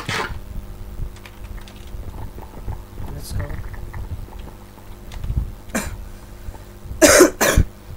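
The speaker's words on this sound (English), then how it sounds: "sorry, I have a bit of cough these days." A few sharp coughs burst out near the end, with quieter clicks and faint background noise before them.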